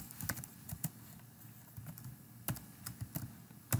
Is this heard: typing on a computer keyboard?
yes